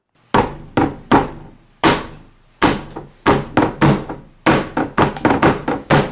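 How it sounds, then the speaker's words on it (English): A hammer pounds repeatedly on a small glob of honey, giving dull, heavy thuds: a few spaced blows first, then a faster flurry of strikes. "If you were to pour out a small glob of honey and try to beat it with a hammer"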